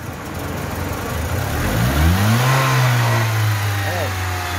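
A 2005 Honda Civic 1.7 running on natural gas, with new spark plugs and a replaced ignition coil, revs up from a steady idle to a sustained higher pitch, heard close with someone talking over it.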